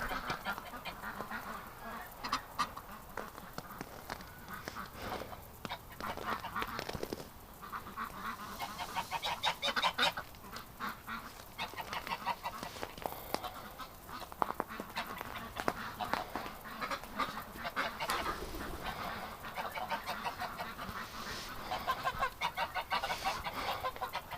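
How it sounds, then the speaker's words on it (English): A flock of geese, kept with Muscovy ducks in winter, honk loudly and continuously, overlapping calls filling the whole stretch with steady, raucous noise. "The geese are impossible to herd."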